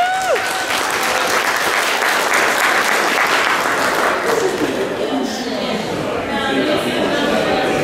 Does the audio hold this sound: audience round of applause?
yes